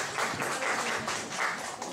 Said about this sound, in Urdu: ریحانہ اور بھائی مقصود کے لیے بہت سی تالیاں ہیں